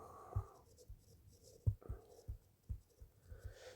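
Writing on a board during a maths lecture, with soft chalk-like strokes and taps in an uneven rhythm, close and fairly quiet, no talking.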